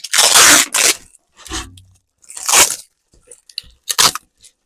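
Protective plastic film is peeled off metal veg bed panels in several loud, crackly, tearing bursts with short pauses between, close by.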